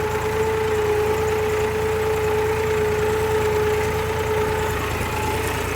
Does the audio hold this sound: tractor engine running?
yes